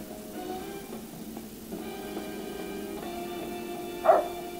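A dog in the video game Fallout: New Vegas gives a single short bark near the end, after a quiet stretch of faint tonal game background sounds.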